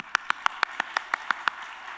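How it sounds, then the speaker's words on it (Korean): A church congregation claps in a steady, even rhythm, about ten sharp distinct claps in quick succession that fade out, with no talking. "우리 박수 한번 쳐주세요."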